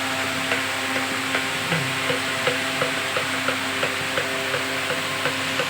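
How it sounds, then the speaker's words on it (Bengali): Steady stirring of a chemical co-surfactant mixture with Tween 80 in an industrial setting, a continuous close scraping and swishing with regular soft knocks about twice a second over a constant background hum, no voices. "ধরে দাও, ঘাটতে থাকো।"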